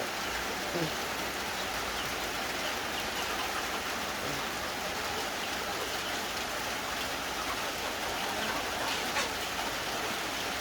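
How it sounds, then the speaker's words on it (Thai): Rain falls steadily in the early morning on a rural farm where cows are fed grass, a dense, even hiss of drops on surfaces filling the whole stretch with no clear break. "ฝนตก ฝนตกจ้าวันนี้"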